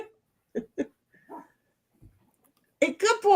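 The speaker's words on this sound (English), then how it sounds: "Is he outside barking or inside?" A dog barks indoors with a few short, separate muffled woofs and soft whimpering sounds, then a person starts talking at the end.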